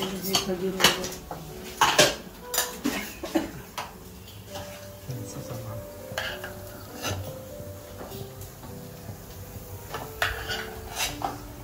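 Spoons clink against dishes in a series of light metallic taps, with people talking in the background.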